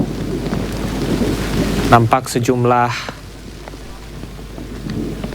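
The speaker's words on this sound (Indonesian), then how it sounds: "telah turun hujan." Steady rain and a low rumble of thunder at a state funeral ceremony at a heroes' cemetery, with someone speaking briefly over the wet background patter.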